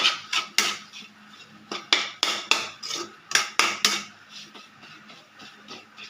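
Fried rice being stirred in a pan, a spatula scraping and knocking against the metal in a quick irregular series of sharp, close clanks, some louder than others, with no talk.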